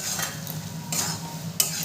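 Bottle gourd and shrimp curry with chopped coriander is stirred in a pan, a low simmering sizzle broken by three scraping strokes of a spatula and a final sharp clink, close and without talk.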